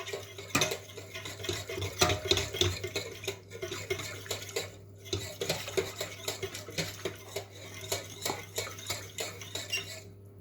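A utensil stirs thick milk in a pan for a pasta casserole, scraping and clinking against the metal in a steady repeating rhythm, close and fairly quiet.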